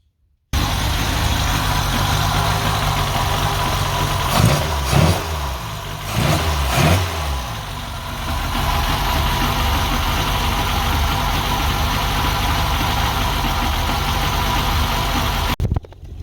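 A car engine with its exhaust manifold removed idles loudly and close, a harsh steady drone with a pair of quick blips of revving in the middle before settling back to a rough, even idle, no talking.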